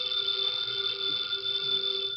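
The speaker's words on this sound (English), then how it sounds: "the ringing of that phone bell means mystery, adventure." A continuous, steady telephone bell rings with a bright metallic tone, unbroken throughout, on an old-time radio show.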